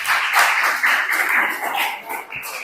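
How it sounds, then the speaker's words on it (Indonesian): A classroom audience of students claps for a group that has just finished its presentation, a close, lively patter of many hands that swells and then tapers off toward the end. "Kasih tepuk tangan dulu."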